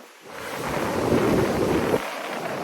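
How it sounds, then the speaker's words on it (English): Seaside wind and waves at Lyme Regis, with a strong gust buffeting the microphone and surf rushing loudly for about two seconds before easing back. "The wind and the waves."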